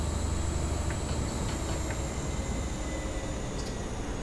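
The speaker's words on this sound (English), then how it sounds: "I put on the class 47 at the back of the train for a reason, so we have more power" A class 47 diesel locomotive pushes a train from the rear along the North Wales coast in Train Simulator 2019, giving a steady, dense rumble with a low drone and faint high whine throughout.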